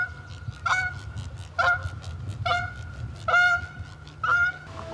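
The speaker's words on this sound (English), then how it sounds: "You'll find Canada geese out on this float as well." Four loud, nasal Canada goose honks ring out in separate bursts, close by, over a low steady rumble of background noise, in Arkansas.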